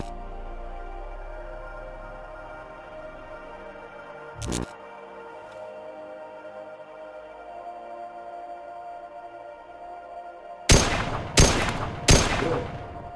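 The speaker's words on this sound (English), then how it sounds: "weapon by firing through it." Gunfire from the VR game Nirvana: Eventide sounds as one sharp shot, then a quick run of three loud bursts near the end over a faint, steady electronic hum.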